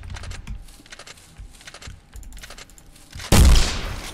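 A gunshot fired at Bigfoot in a video game: after several seconds of light, irregular clicking, a single loud, sudden blast rings out near the end and trails off.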